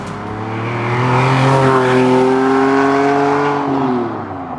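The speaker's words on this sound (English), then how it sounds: "a mid-mounted V12 engine delivering raw power and spine-tingling acceleration, propelling the Diablo to dizzying speeds." A Lamborghini Diablo's mid-mounted V12 engine revs up in a rising, layered snarl, swelling loud and close for several seconds before tapering off as it pulls away.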